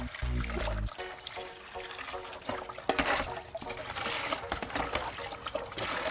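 Water gushes and pours steadily into a bucket to dissolve algicide for pool cleaning, a continuous splashing, trickling rush heard close throughout, starting with a brief low hum.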